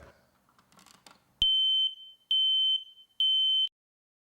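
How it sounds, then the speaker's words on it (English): A loud, piercing smoke alarm sounds three long beeps in a row after a brief rustle, with silence between the tones. "Test smoke alarms monthly."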